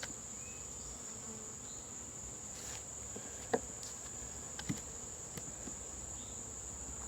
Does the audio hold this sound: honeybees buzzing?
yes